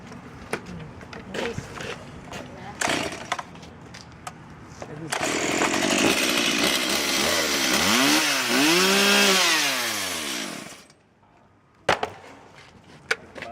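A chainsaw revs and cuts into chainsaw safety chaps, a loud, close engine roar lasting about five seconds with rising and falling pitch as it bogs down, then stops abruptly. Speech and handling knocks come before and after.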